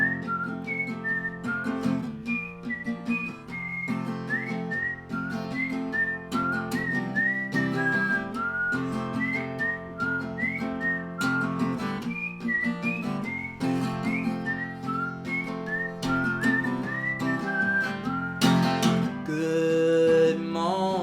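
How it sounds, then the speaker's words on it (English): A person whistles a bright, melodic tune over a song's instrumental backing, clear and close, with rising and falling phrases repeating for about twenty seconds. "Let's whistle."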